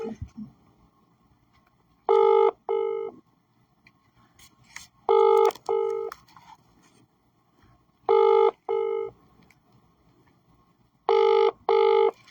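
A telephone plays touch-tone dialing beeps while someone places a call. The clear electronic tones come in four short bursts, each a quick pair of beeps, separated by quiet gaps.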